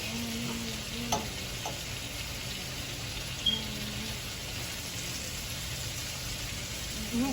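Thick shrimp sautéing in a pan, a steady low sizzle and frying hiss running throughout with a few faint clinks of stirring, no talking.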